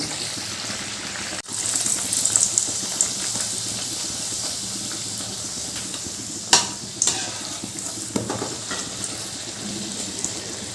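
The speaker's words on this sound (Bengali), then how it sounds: "কড়াইয়ে দিয়ে দিয়েছি তেল যে তেলটা গরম হয়ে গেছে এবার আমি পুরিগুলো" Steady hissing sizzle of puris made from wheat flour and sattu deep frying in hot oil in a kadai, with a few louder bursts and crackles partway through; no voices.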